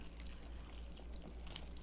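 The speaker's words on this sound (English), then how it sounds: "And then we're going to pour everything" Cooked food is poured over a dish in a short, faint, wet sloshing pour, close by, with no talking.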